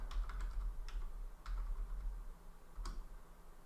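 An IP address is typed on a computer keyboard, a few quiet, separate key clicks spaced irregularly, close and faint over a low hum.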